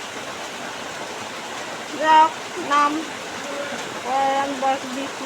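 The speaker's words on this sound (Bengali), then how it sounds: "আজ সকালেও শুরু হয়েছে এই বৃষ্টি" Heavy monsoon rain pours down in a steady, dense hiss, with someone speaking briefly over it in short bursts.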